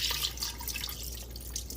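Water from cooked plawv, for Hmong traditional soup, is drained into a sink in a steady splashing, dripping stream heard up close without talk.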